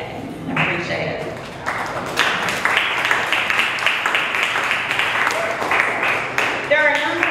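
Youth summit audience breaks into applause, a steady crackle of clapping that builds after a speaker's voice and continues with more talk over it near the end.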